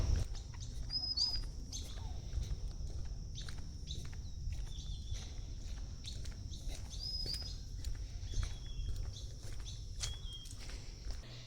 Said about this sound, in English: you can hear the birds